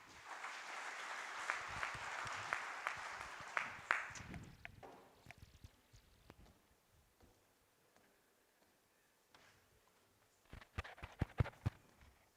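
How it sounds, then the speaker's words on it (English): At an Ethiopian finance forum, an audience applauds a capital markets panel with moderate, fairly quiet clapping that fades after a few seconds. Scattered knocks and shuffling follow, then a short burst of sharp, close claps. "Can we give them another round of applause"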